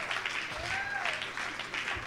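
A church congregation applauding the Lord during a sermon by a French-speaking pastor, a dense wash of clapping from a crowd with a voice speaking over it.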